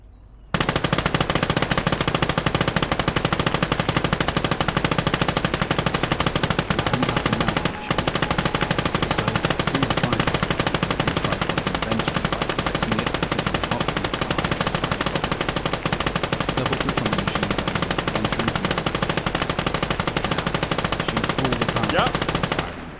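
An MG34 machine gun fires from a tripod in the video game Call to Arms, a dense, continuous rattling burst that runs loud and steady for nearly the whole stretch, with one brief dip partway through.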